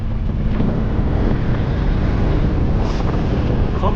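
Loud, constant wind roars and buffets a microphone while a cyclist rides a 600 km non-stop Audax brevet across flat land by saltwater lagoons, a dense rumble that never lets up, with no speech.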